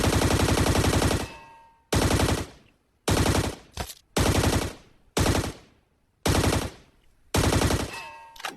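Automatic gunfire in the mobile battle royale game Scarfall 2.0, seven loud sustained bursts, each about a second long, separated by short silent gaps and fading echoes.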